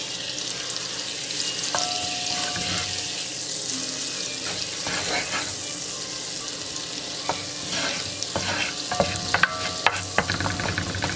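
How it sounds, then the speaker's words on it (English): Olive oil and butter melting together in a frying pan for chicken paprikash, giving a steady low sizzle throughout with scattered clinks and light kitchen handling noises near the end, and no talking. "I've got a tablespoon of olive oil and 1 tablespoon of butter. I'm going to get that melted."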